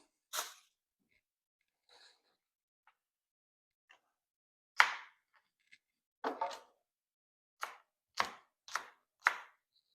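A knife slices green onion strips on a cutting board, a handful of sharp separate cuts with gaps at first, then a quicker run of four or five chops close together, loud and near with no talk.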